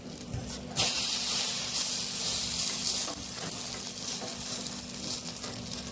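A farali fasting snack fries slowly on a very low gas flame, giving a steady, soft, continuous sizzle and hiss close by with no talking.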